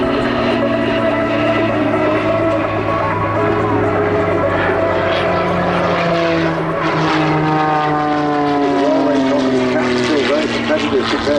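Two Mudry CAP 232 aerobatic propeller planes performing at an airshow, their engines droning loudly with rising and falling pitch as they climb and twist overhead, under continuous commentary.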